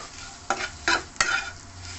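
A spatula stirs a banana flower mixture frying in a pan, three quick scraping strokes rising over a soft, continuous sizzle, close by and with no talking.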